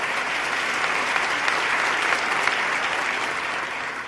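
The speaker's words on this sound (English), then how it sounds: "Let's give him another round of applause" Sustained applause from an audience at a 2014 State of the State address, steady and dense for the whole stretch with no break, loud and close.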